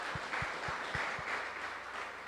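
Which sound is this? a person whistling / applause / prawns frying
applause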